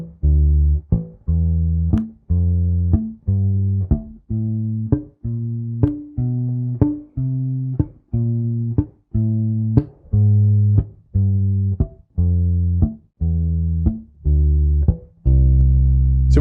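A bass guitar plays a steady run of short plucked notes, each preceded by a quick muted ghost-note click from the string above, in an even rhythm with no talking.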